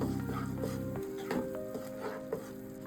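A ground spice paste being stirred into frying masala for paneer, with a soft steady sizzle and occasional light scrapes of the spoon in the pan, close and quiet, alongside a faint humming tone.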